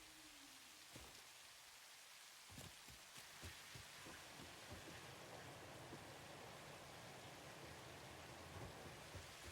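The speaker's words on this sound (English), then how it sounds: "It's raining kittens and puppies out there." Heavy rain pours down in a dense, constant roar, with occasional louder drops and thuds striking nearby.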